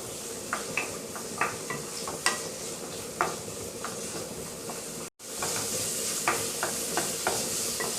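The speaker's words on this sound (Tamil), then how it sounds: "வெங்காயத்தை சேர்த்துட்டு நல்லா வதக்கிடலாம்." Small shallots sizzle steadily in hot oil while a spoon scrapes and stirs them in a pan, with regular close clinks over the constant frying hiss and no talk.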